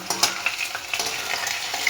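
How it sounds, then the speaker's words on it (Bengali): Potato strips sizzle in a pan with cumin seeds as they are stirred, giving a steady hiss broken by quick scraping spatula strokes, close and moderately loud, with no talking. "দেখতে পাচ্ছ আলু ভাজছি"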